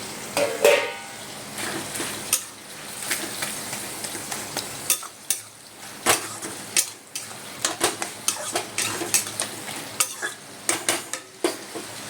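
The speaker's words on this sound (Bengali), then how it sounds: "এবার ইলিশ মাছের মাথাটা দিয়ে দিলাম।" Hilsa fish head frying with cumin powder and spices in a pan, a steady sizzle broken by repeated scraping and clinking of a spatula stirring against the metal, close and alone.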